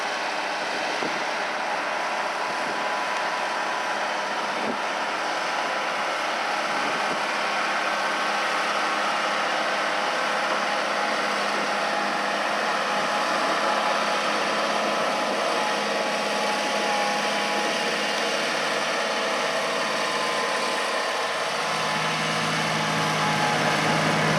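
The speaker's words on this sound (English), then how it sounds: "this chisel plow is not a real load for this tractor. But they're running it pretty deep." Tractor engine pulling a chisel plow running deep through soil during spring field prep, a continuous heavy diesel drone holding steady for the whole stretch, close and loud with no talk.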